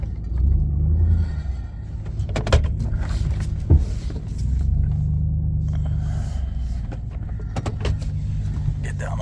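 A car driving down a road with an aftermarket throttle controller fitted, a steady low engine and road rumble throughout with a few brief clunks and knocks in the cabin.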